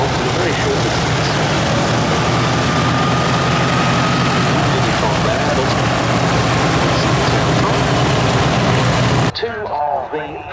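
A Lockheed 12A Electra Junior lands at the Duxford Battle of Britain Airshow with a loud, continuous engine roar and rumble for about nine seconds, then cuts to quieter sound with people talking.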